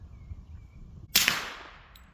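A single sharp rifle shot from a Ruger LC Carbine in 10mm firing 125-grain frangible rounds, a loud close crack with a fading tail after a quiet lead-in.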